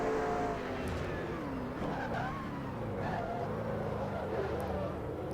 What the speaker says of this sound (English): Geez, the car is just sliding through there.